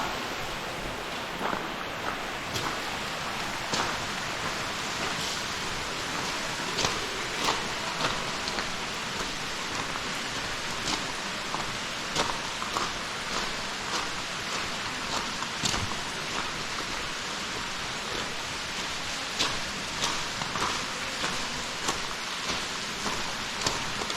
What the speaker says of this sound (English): Inside waterfall.